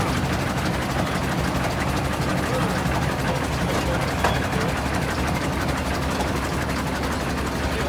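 A 4-cylinder Altman Taylor 3060 early tractor engine with a long stroke runs steadily at a farm show, a continuous low, rumbling drone that holds unchanged and close throughout, with crowd noise faintly underneath.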